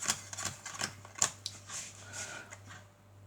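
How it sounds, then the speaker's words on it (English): Playing cards are re-dealt face down onto a pile for a card trick, a series of soft crisp slaps and ticks in an uneven rhythm, close and quiet over a low steady hum. "you need to then re-deal these cards back on top like this"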